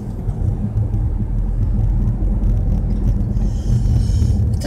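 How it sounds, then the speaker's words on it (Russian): A city bus and street traffic on an Orlando street, heard as a steady low engine rumble and road noise that stays close and even throughout, with no talking. "Впереди еще один автобус."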